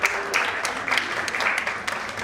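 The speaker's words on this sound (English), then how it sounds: "May I have a huge round of applause for Dr." An audience at a medical symposium gives a burst of applause for a doctor, many hands clapping steadily in a hall, loud and continuous for a couple of seconds.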